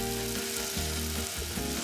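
Garlic and onion fry together in olive oil in a pot, a close, steady hiss and crackle with stirring pulses breaking the sizzle, no one speaking.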